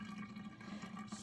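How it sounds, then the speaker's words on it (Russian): Water is poured off a jar of cabbage being pickled, a soft, quiet, continuous trickling and splashing with no talk. "сейчас выливаем воду,"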